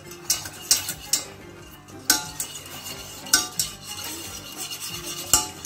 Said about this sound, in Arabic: غنبقى نحرك باش يدوب ليا